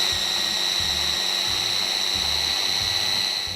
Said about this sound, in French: On va remettre un petit peu plus d'huile d'olive. Ça va être plus facile à mixer.